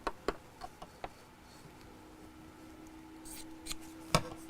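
Scissors trim fabric for a Christmas apron: several sharp snips near the start, then quieter, with a few more clicks toward the end, close by in a quiet room.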